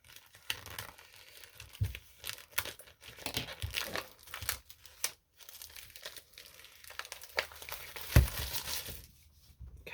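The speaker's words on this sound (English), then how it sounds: "is that ribbon or is that plastic? I think it's plastic." Plastic packaging crinkles and rustles in irregular bursts close by, with sharper crackles now and then, as a precut fabric strip bundle is unwrapped for quilting; no talk is heard.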